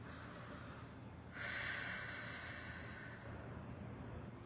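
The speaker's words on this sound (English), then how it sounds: "And you take some deep breaths." One slow, deep breath, drawn in and let out as a calming exercise: a soft, airy inhale-exhale swelling in the middle of a quiet room, close and gentle, without talk.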